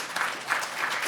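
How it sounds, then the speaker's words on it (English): Conference audience applauding its organizers and service staff, a short burst of steady clapping from a crowd at moderate distance. "Let's give a round of applause to our amazing organizers and service help staff."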